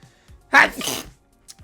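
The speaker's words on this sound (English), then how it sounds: "I'm gonna sneeze." A single short sneeze bursts out up close, a quick breathy explosion with a faint catch of breath before it.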